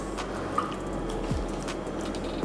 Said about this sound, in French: on la met dans de l'eau qui nous permettra de la rincer